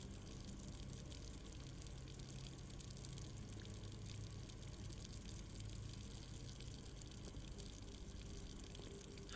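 Kitchen tap running in the video game Blue Prince, a constant faint rush of flowing water that stays even from start to finish with no one talking.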